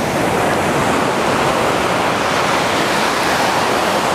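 Steady, loud roar of surf rolling onto the sand at Pantai Kroko beach, a continuous broadband wash with no pauses or voices.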